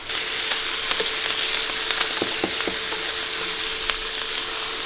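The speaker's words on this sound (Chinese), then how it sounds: "这道菜叫做爆炒娃娃菜，" Baby cabbage being quick-fried in a wok, a steady close sizzle with a few brief clinks and stirring scrapes scattered through it, no voices.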